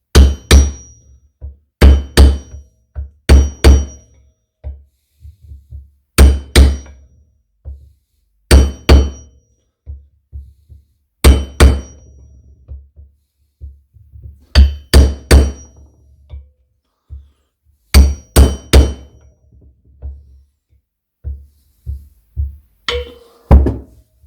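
Repeated hammer blows drive a thrust bearing into a Triumph Trident T160 motorcycle engine crankcase, landing in clusters of two or three sharp, loud knocks with short pauses between groups.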